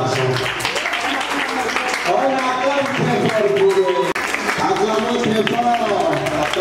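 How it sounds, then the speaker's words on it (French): At a school eloquence contest, an audience applauds the speakers with steady clapping and cheering, while voices carry over the applause for the whole stretch. "On acclame très fort pour eux."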